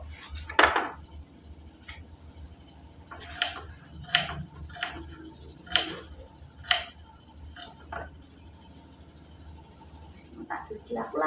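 Bamboo kitchen utensils and dishes being wiped and washed at home: scattered clinks and knocks of dishes and utensils, several sharp taps spaced a second or so apart, close over low background rumble with some voice.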